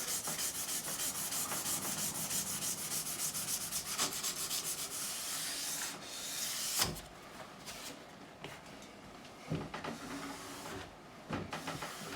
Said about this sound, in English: Just sanding work to be done now on this side.